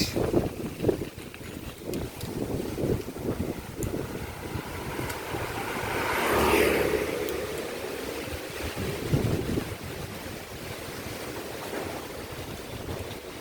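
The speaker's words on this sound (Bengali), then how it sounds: "এখন ঝোড়ো হাওয়া শুনতে পাচ্ছ।" Stormy wind gusting outdoors on a rainy day, a loud rushing roar buffeting the microphone that swells in the middle, with no speech.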